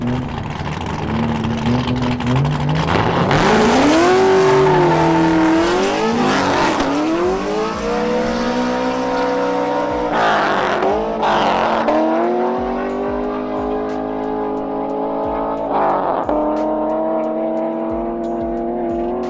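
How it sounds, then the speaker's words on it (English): A Toyota JZX100 drifts around a small track, its engine revving hard and rising and falling in pitch with each throttle change, while sharp tire squeal bursts in repeatedly, all loud and close. "Time to go drifting. Doing a quick sight lap of one of their smaller courses."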